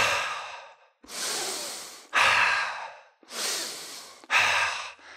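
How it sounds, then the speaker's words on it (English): Slow, deliberate breaths drawn in through the nose and pushed out through the mouth, about five long airy strokes alternating in steady rhythm, close and fairly loud with no talking. "take your inhales through your nose and exhale through your mouth"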